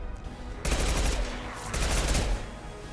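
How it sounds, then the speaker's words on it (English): Impact shot gunfire in the video game Mass Effect: dense, loud bursts of rapid gunfire in two long runs with a short break between them, close and harsh. "Firing an impact shot."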